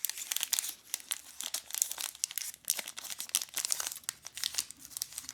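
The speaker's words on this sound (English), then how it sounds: "peeling open the packet" A 35-gram Cadbury Dairy Milk 30% Less Sugar chocolate packet is peeled and torn open up close, a run of sharp crinkling and tearing bursts of plastic wrapper in irregular quick succession, fairly quiet, with no talking.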